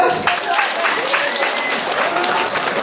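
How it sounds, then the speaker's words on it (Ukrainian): Wedding guests at a banquet table clap in a short burst to vote for a girl, steady applause throughout with voices mixed in. "Хто хоче, щоб була така гарна дівчинка, оплески?"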